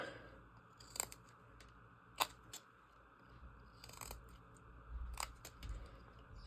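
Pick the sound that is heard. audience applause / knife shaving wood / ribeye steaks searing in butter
knife shaving wood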